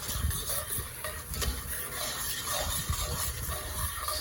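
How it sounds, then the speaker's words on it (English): Tomato paste worked around a hot pot of braised short ribs with a metal scraper, a steady close scraping and stirring over a soft sizzle. "Stir that around in there."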